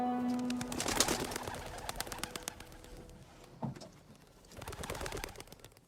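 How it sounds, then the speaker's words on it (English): Pigeons coo indoors in a steady, close, overlapping chorus of soft calls, with a brief sharper noise near the middle. "There's birds in here."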